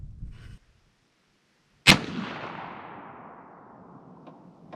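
One sharp, loud muzzleloader rifle shot bursts out after a short silence and then decays in a long rolling echo, with a faint noise just before the shot.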